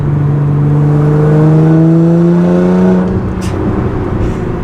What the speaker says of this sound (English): That was 50 to 60 in 4th gear, like, that took a long time.